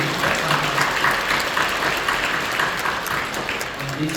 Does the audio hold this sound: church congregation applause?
yes